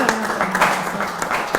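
A studio audience claps in a short burst of scattered applause during a talk show, moderately loud, with a voice heard over it.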